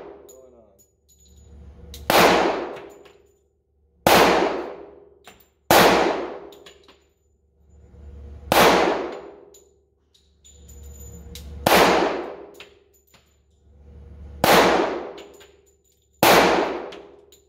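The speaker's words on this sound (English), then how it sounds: "now we're going to do 8 rounds from the Rock Island" Eight loud pistol shots from a Rock Island hit a target, fired singly at spaced intervals. Each sharp report is followed by a ringing decay.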